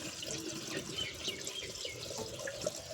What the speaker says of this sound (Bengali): আমি বোতলগুলোয় জল করে দিই